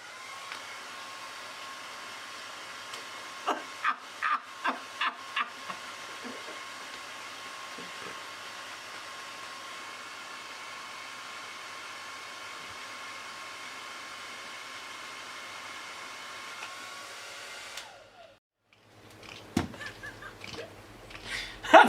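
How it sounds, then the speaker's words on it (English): A hair dryer blows steadily on a homemade wind turbine built on an axle, a continuous even whoosh with a burst of quick rattling clicks early on, then the dryer cuts off and handling noises follow. "Let's turn the hairdryer on it and see what happens."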